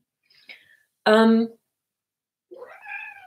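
A house cat gives a short, loud, drawn-out meow between quieter chirps and a rising trill, with near silence between the sounds.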